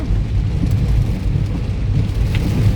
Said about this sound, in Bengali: লং টাইম বৃষ্টি হচ্ছে। হ্যাঁ, কন্টিনিউ বৃষ্টি চলছে